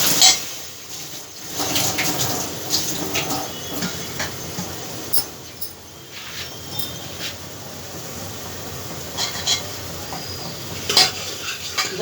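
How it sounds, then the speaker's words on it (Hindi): Peas for aloo matar are stirred as they fry in a pan: a steady sizzle runs throughout, with a utensil repeatedly scraping and clinking against the metal at close range. "अच्छे से इसको अच्छे से घुमा देंगे।"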